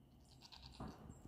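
An injured goat with a hurt hoof bleats once, close and fairly loud, around the middle of a short outdoor moment on a rainy day.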